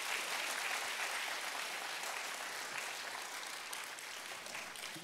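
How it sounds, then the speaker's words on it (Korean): A church congregation at a Friday evangelism school gives sustained, dense applause that stays steady and slowly tapers toward the end, with no voices over it. "찬양드린 우리 남칠 전도 다시 한번 영광의 박수를 드리겠습니다."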